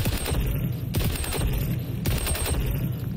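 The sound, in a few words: ACR assault rifle firing in the video game XDefiant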